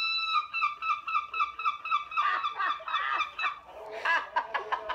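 A person imitates bird calls, producing a quick run of high, tonal chirps and warbling squawks that shift and tumble for several seconds before a burst of harsher, honking cries at the end, close and fairly loud.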